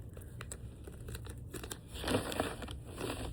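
Adhesive tape torn and pressed onto a handmade planter, close crinkling and ripping sounds in quick bursts, with a louder tearing stretch toward the end over faint room noise.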